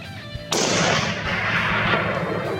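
One loud rifle shot fired while hunting a bull elk outdoors, a sudden sharp crack followed by a long rolling echo that fills the rest of the moment.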